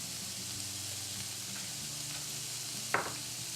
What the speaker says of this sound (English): In the skillet, we're going to add bacon, 4 strips of bacon. We're just gonna crisp it up.